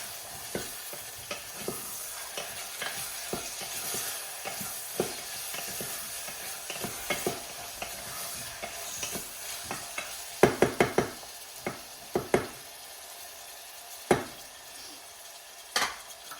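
Cauliflower, carrots and peas tumbling into a pan and being stirred, with a steady sizzle under repeated scrapes and knocks of the spoon that grow sharper and louder in the second half.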